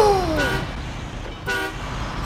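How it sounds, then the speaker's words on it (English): A truck horn in SnowRunner gives two short, separate honks, each a brief burst with a pause between, over a steady engine rumble. "Can I honk?"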